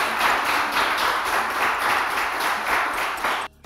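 An audience at a televised throne contest bursts into sustained, dense applause, loud and continuous, before it cuts off sharply near the end.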